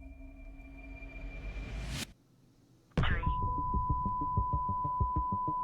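A phone call being placed produces a steady electronic tone that stops abruptly, a second of near silence, then a sustained beeping ring tone with regular pulses over a low background.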